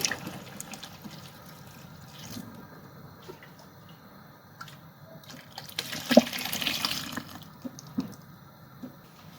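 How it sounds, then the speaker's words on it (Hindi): Two litres of milk pour into a large batch of mashed carrots for gajar ka halwa, a quiet, steady liquid trickle with soft splashes that swell briefly near the end. "अब यहाँ पे मैंने लिया 2 लीटर दूध। ये सारा दूध इसमें डाल दूंगी"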